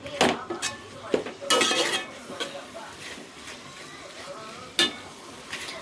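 Clam stir-fry (kakka thoran) being mixed in a pan, with irregular scraping and clinks of a utensil against the pan, loud bursts separated by quieter stretches, while a voice talks now and then.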